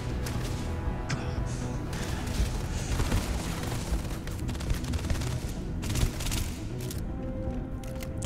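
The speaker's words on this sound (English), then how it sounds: "That's a lot of explosions caused by like one thing." Explosions in the Starfield video game, a chaotic run of repeated booms and crackling gunfire-like bursts over a constant noisy battle din, fairly loud and continuous.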